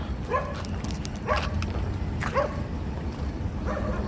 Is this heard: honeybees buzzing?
no